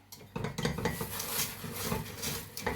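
Easter nest mixture gets stirred in a pot over low heat, a spoon knocking and scraping against the pot in quick irregular strokes, close and clear.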